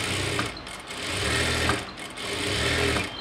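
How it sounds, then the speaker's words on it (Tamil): A sewing machine runs close by in steady bursts, topstitching the lining of a chudidhar top, its motor whirring and needle chattering, with brief pauses between runs. "இப்போ அப்படியே லைனிங் இந்த பக்கமாக திருப்பிட்டு படிமான தையல் போட்டுக்கலாம்."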